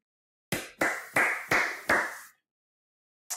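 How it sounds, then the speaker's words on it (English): Five sharp, evenly spaced hand claps ring out in a quick rhythm at a church service, each with a short reverberant tail, followed by a pause and one last clap. "Would you clap your hands for the Lord?"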